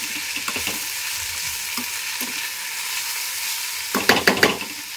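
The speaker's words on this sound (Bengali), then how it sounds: "কাঁচা লঙ্কাটা ভাজা হয়ে যায়" Green chillies and potatoes frying in a pan, a soft continuous sizzle broken by a few clattering stirs near the end.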